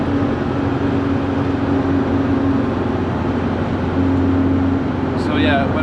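A repaired VW Beetle engine hums steadily from inside the moving car, a continuous mid-level drone with a faint whine, and a voice joins briefly near the end.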